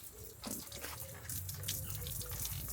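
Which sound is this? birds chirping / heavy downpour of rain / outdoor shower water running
outdoor shower water running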